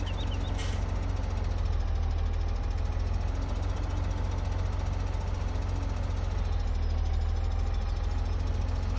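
Tractor engine in Farming Simulator 17, a steady low idling drone that runs continuously and evenly throughout, loud and close with no talk over it.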